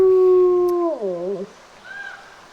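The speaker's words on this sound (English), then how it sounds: "he lets out a howl" A long, steady howl with clear tones that bends downward and fades, followed by a softer, fainter wavering call.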